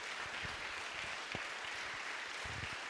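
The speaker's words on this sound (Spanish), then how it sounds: "Dale un aplauso al Señor." A church congregation applauding during a worship service, a steady wash of clapping from many hands with a few sharper individual claps.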